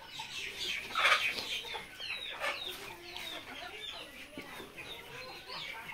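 Hens and a rooster at a poultry seller's farm cluck and squawk in short, irregular bursts. The calls are fairly close, with one louder call near the start and soft background noise throughout.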